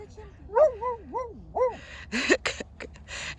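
A dog lets out a run of rising and falling yips, then a few quick, sharp barks, fairly close.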